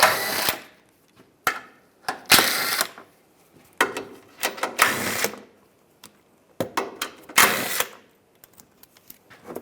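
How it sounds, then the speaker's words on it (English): A 15mm socket wrench pulls the differential cover bolts on a 2007-2013 Chevrolet Silverado, giving loud, sharp bursts of ratcheting separated by short pauses, close by. "We're going to remove this cover, use a 15mm socket, take the bolts out."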